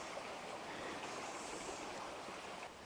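Water flows steadily along clear Green Ant Creek in Litchfield National Park, Northern Territory, a soft continuous rushing burble, fairly quiet and with no voices.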